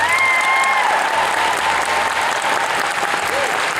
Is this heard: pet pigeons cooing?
no